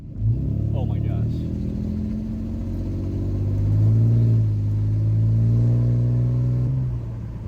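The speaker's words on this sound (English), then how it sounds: "we're gonna go see if that was really the issue and if the truck runs fine now" A truck engine idles with a low steady rumble and then revs up and holds higher, close by, while a person talks over it.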